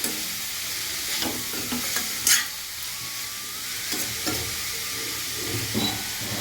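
Onions sauté in a pan for Kumbakonam-style tomato thokku, a steady bright sizzle and hiss broken by occasional scraping stirs of a spoon, close up and moderately quiet with no voices.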